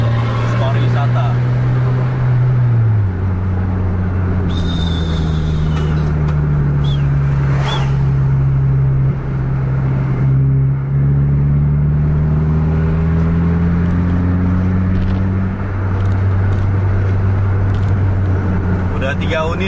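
Heavy tour bus engines drone and rev on a road, a long steady growl shifting pitch as the vehicles accelerate hard, with road and traffic noise throughout and people talking over it.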